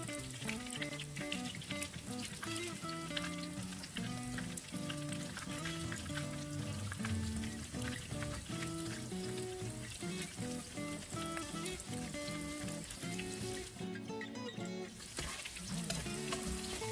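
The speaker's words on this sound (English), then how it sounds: "I normally keep stirring it while frying" Battered popcorn shrimp frying in hot oil while being stirred, a continuous dense crackling sizzle over steady background music, with occasional scraping as the pieces are moved around.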